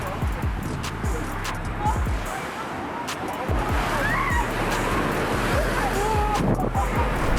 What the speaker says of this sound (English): a rogue wave crashed directly into a bridge and flooded the roads nearby as well